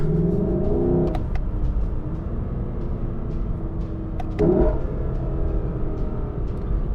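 A 2020 Lexus LC 500 coupe engine in sport mode, a low steady rumble from inside the cabin with a couple of brief rises in pitch as the revs climb, with sharp clicks along the way and no talking.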